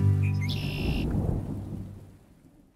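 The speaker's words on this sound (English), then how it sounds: "Just in time for that storm to come in." A thunderstorm rolls in during an outdoor dig at a bottle dump in Fife, Scotland, with a low, broad rumble of thunder that swells and then slowly fades away over a few seconds, and no voices over it.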